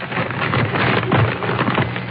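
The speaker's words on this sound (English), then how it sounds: "Then, a rustling of paper." Continuous dry crackling and rustling, like paper being crumpled and handled close up, with no voices; a 1947 radio show sound effect.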